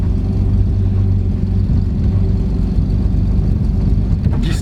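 An automatic car pulling away onto the road, its engine a loud, close, steady low rumble held throughout, with a brief brighter noise right at the end.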